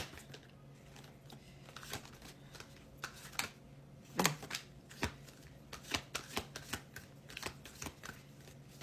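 Tarot cards being pulled from a deck and handled, with soft papery card slaps and shuffling clicks in an irregular series, one louder snap midway, close and fairly quiet.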